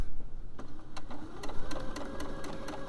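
A sewing machine stitches a small round drawstring pouch at a slow, even pace, its needle clattering in a quick steady rhythm close by.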